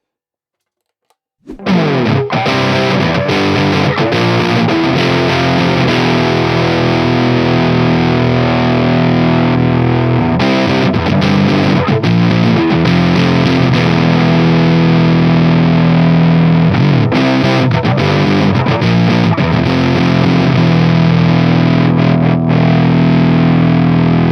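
Electric guitar played through an old Eastman SC, a loud, continuous run of distorted chords and riffs with effects, starting after a brief silence and going on unbroken with no talking.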